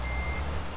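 A truck's reverse warning beeper in Euro Truck Simulator 2 holds one steady high tone over a low engine rumble for under a second, loud and close.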